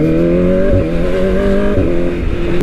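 A Kawasaki ZX25R motorbike fitted with a big-volume 60 cm aftermarket exhaust runs on the road, a loud, steady, deep buzzing engine drone with slight pitch changes, close and continuous.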